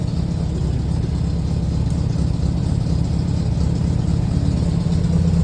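A car engine idles smoothly and steadily nearby, a constant low rumble with no revving and no voices.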